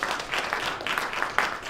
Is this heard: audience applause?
yes